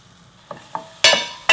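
Garlic and onion hitting a pan of hot toasted sesame oil, heard as a few short stirring clatters followed by two loud bursts of sizzling, with no voices.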